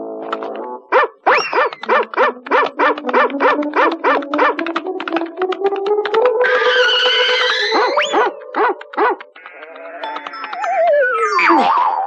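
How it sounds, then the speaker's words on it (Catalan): A sheepdog herding sheep gives a long run of rapid, loud, close barks and yips in a steady rhythm, ending in a higher whining yelp. No other sound is heard alongside it. "Són molt intel·ligents els gossos de pastor."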